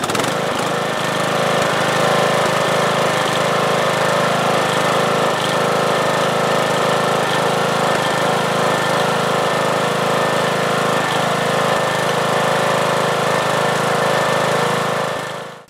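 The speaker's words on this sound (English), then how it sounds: "So let's start the engine." A Briggs & Stratton small engine with a dual circuit charging system runs loud and close, a steady buzzing drone held at constant speed. It cuts off abruptly at the very end.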